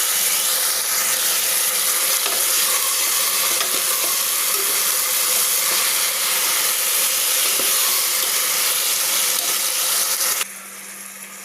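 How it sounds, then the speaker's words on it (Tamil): Steady loud sizzle and hiss of tomatoes sautéing with mint and coriander in a hot pan for chicken biryani, continuous and close, easing to a quieter simmer near the end. "தக்காளி சேர்த்து அதை கொஞ்சம் வதக்கிக்கலாம்."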